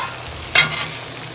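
Okra (bhindi) frying in a pan at home, giving a soft steady sizzle with one brief louder clatter of stirring partway through.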